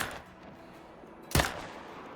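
Single AR rifle shot in Call of the Wild, a sharp, loud crack at about the midpoint against a quiet, faintly hissing outdoor background.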